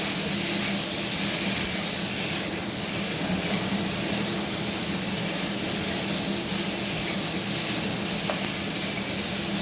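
Two potatoes and pumpkin stems fry in a little oil, giving a steady, close, even sizzle that runs unbroken throughout with no talk.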